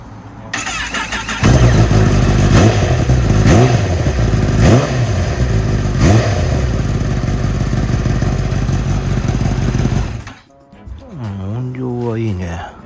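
A motorcycle fitted with a new exhaust cranks and fires, then its engine revs hard in repeated loud bursts at close range before cutting off, followed by voices talking.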